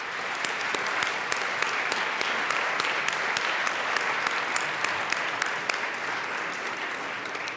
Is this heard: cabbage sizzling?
no